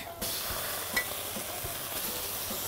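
Tomato paste is stirred into a hot pan for a tajine, giving a steady sizzling hiss broken by soft, irregular scrapes and taps of the utensil throughout.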